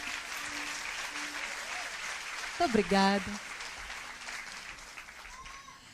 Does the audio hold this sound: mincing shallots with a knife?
no